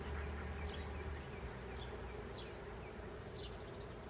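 Honeybees at an opened hive during a smoked inspection make a faint, continuous buzzing hum, with a few thin chirps over it.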